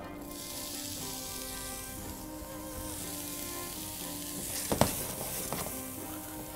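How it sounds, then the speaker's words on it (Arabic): Chopped onions sizzle in hot oil, a soft continuous hiss with a faint hum behind it and a brief louder crackle and clatter near the end. "الزيت عندي أنا هون بلش يحمى، رح ننزل البصل"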